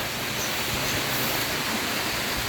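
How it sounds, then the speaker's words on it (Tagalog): A small mountain creek flows with a steady, broad rushing wash that stays constant and fairly loud throughout, with no voices. "Pero maliit lang naman na sapa yan."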